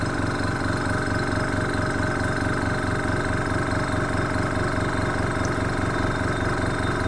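A Jerry Howell V-twin internal-combustion model engine runs steadily on its first run, with a continuous, even, rapid mechanical chugging up close and no talk over it.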